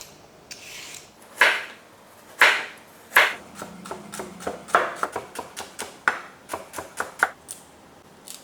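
A knife chops leftover steak into small pieces on a board, with a few slow heavy cuts at first that speed into a steady run of crisp, close knocks, and no voices.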